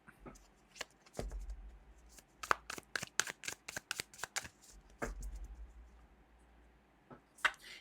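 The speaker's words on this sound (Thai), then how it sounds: "ขอเวลาสับไพ่นิดหนึ่ง" Tarot cards being shuffled during a love-horoscope reading: a quick run of crisp riffling slaps and flutters, close and clear, with short pauses between bursts and no talking.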